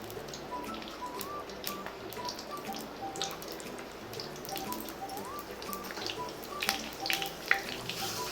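Sliced onions frying in hot oil in a kadai with mustard-seed tempering, a soft continuous crackle and light popping heard at moderate distance without talk.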